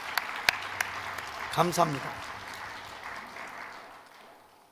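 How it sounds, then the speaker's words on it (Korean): A church congregation at a Sunday devotion service claps for the pastor in moderate applause. A voice briefly speaks midway, and the clapping gradually fades away. "우리 목사님을 위해서 박수 한번 쳐드리십니다."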